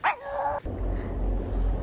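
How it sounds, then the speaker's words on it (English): A dog gives a short, loud, rising whine lasting about half a second, followed by a low, steady rumbling noise close by. "I think my dog is crying."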